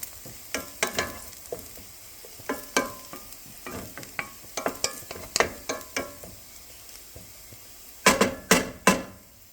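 Garlic sizzling in a hot pan for chicken with lemon pan sauce, a soft continuous sizzle under irregular sharp scrapes and taps of a utensil stirring against the pan, with a quick flurry of knocks near the end.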